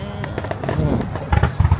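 A large display of about 12,000 fireworks over Odaiba, Tokyo, sends a rapid run of loud, close booms and crackling bursts, densest near the end, with voices chattering underneath.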